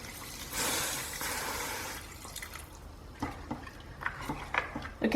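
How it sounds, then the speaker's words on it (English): Water gushes briefly into a pot of mutton rogan josh, then trickles and drips unevenly for a few seconds, fairly faint and close by. "I'm going to add some water to cook this."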